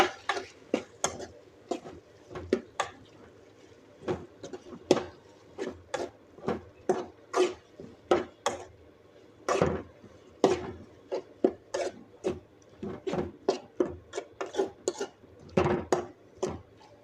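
Okra fry with tomatoes being stirred in a pan. A spoon repeatedly scrapes and knocks against the pan in an uneven rhythm of sharp clinks, close up and steady for many seconds, with no talk.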